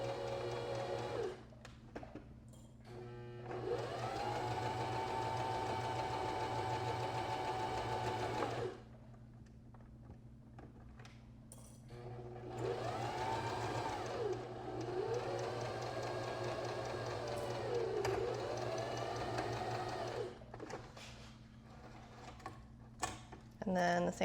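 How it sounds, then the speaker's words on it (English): A sewing machine stitches a seam on a men's Hawaiian shirt, running in several steady whirring bursts with short pauses between them, close and clear. "You do your reverse stitch and then just a regular straight stitch."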